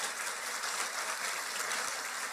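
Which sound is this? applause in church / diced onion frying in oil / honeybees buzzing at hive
applause in church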